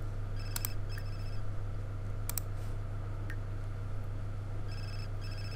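Telephone ringing inside The Sims 4, a game-style ring heard in short repeated bursts over a steady low background hum, moderately loud with no talk during it.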